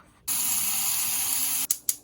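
Water pours steadily into a pot of sweet potato wedges for parboiling, a bright rushing stream that starts suddenly, runs loud and close, then cuts off with a couple of short splashes.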